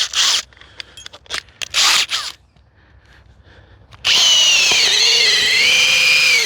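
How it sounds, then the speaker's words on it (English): A power drill pushes the next size bit through a steel hole in a playground build, first in sharp stuttering bursts, then a pause, then a loud continuous grinding whine close by. "I'm going to enlarge that hole a little bit by going the next size up"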